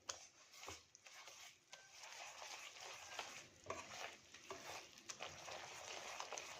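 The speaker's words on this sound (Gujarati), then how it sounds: "આપણા ગોળમાં બબલ્સ થવા માંડ્યા છે." Jaggery cooking for puffed-rice chikki bubbles faintly in a pan while a spoon stirs it, giving quiet, uneven scraping strokes over a soft sizzle.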